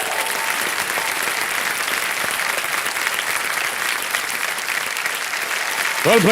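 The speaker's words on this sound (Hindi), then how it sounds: "तालियां बज जाए इनकी।" Sustained applause from a large television quiz show studio audience, steady and loud throughout, swelling slightly near the end.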